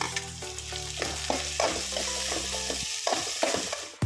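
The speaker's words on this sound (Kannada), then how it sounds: "ಒಂದು ಮೀಡಿಯಮ್ ಸೈಜ್ ಟೊಮೆಟೊನ ಈ ಥರ ಕಟ್ ಮಾಡಿಟ್ಕೊಂಡು ನಾನು ಹಾಕೊಳ್ತಾ ಇದ್ದೀನಿ" A chopped medium-sized tomato fries in a pan for vegetable upma, giving a close, steady sizzle with repeated spatula scrapes and stirring taps, while a faint low hum runs underneath.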